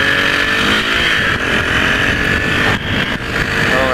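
A Suzuki GSX-R motorcycle riding along, its engine droning steadily and loud throughout with a constant pitch and a brief dip in level near the end.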